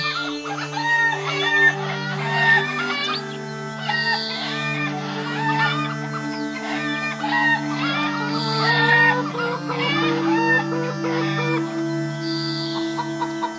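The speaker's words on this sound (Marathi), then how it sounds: "रामूकडे काही कोंबड्या होत्या." Chickens cluck and a rooster crows over steady background music in a village tale about a man named Ramu and his hens, the calls recurring in a lively, continuous pattern throughout.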